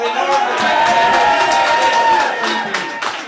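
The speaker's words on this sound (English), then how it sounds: "Right, one final big cheer for Brian Hogan." A pub crowd at a quiz finale night in the Square Bar cheers loudly and continuously, with whoops and whistles rising over a dense wall of voices.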